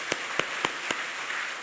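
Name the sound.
congregation applauding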